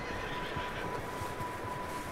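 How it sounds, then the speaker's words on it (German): Horses whinny in the Red Dead Redemption 2 game world, a low, soft neighing repeated a few times at a distance over a steady ambient background. "Zwei Pferde."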